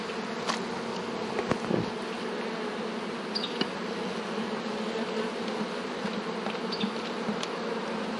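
Bees swarm and buzz at a bee tree in June, a dense, steady droning hum close by with occasional louder passes and faint knocks, with no talking.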